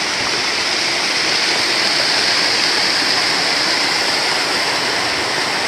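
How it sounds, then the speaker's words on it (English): A waterfall on the hiking trail to Humantay Lake roars loudly and constantly at close range, a dense, unbroken hiss of rushing water with no voices. "So here's a waterfall I didn't tape the coming down."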